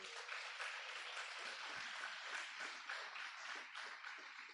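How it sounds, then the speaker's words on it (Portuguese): Church congregation applauding during a Sunday Bible school service, steady broadband clapping filling the whole stretch at moderate loudness with no talk over it. "você pode dar uma salva de palmas pela vida do diácono Fábio."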